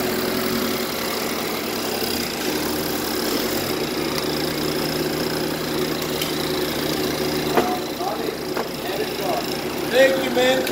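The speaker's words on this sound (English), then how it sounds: "and now engine start and running." A BMW F33 engine runs at a steady idle after starting with a newly programmed body domain controller, a continuous mid-low rumble that stays level throughout while people talk over it.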